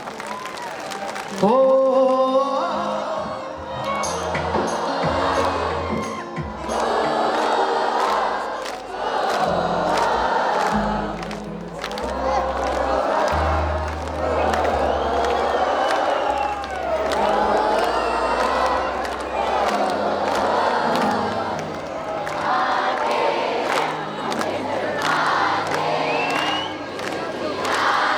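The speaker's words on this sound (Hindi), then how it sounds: "अपने लिए भी जोरदार तालियां मारें" A large outdoor crowd at the Banikhet Mela 2022 night concert cheers, whoops and claps loudly and continuously, with shouting voices and some music mixed into the steady roar.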